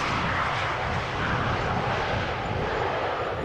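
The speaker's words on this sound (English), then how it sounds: "there is an Embraer 190 landing" An Embraer 190 airliner landing at Amsterdam Schiphol, heard as a steady, loud broadband jet roar that holds evenly throughout with no voices.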